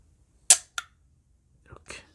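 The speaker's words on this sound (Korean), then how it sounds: "그래서 누르면 필름 사진이 찍히는 카메라입니다." Argus film camera shutter firing: a crisp mechanical click followed by a second snap, then softer winding clicks, close and isolated in a quiet room.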